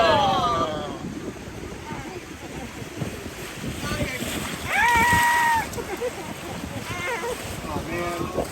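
River water rushes and splashes over a raft in the Smoky Mountains, with wind buffeting the microphone. Excited riders shout and whoop over the continuous watery roar, which swells loudest midway.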